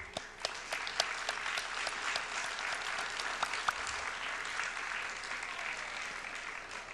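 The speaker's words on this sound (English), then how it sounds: "we need to give a big round of applause for the Friends of the Status on Women" A sizeable audience applauds steadily at a civic Women's History Month event held with the San Francisco mayor, a dense, continuous clatter of many hands that holds fairly level throughout.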